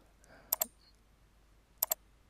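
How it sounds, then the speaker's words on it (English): Computer mouse clicks while dragging a drawing in ArchiCAD 21: two crisp double clicks, close and sharp, separated by about a second of near silence. "I'm just going to grab my whole drawing by just clicking and dragging it down"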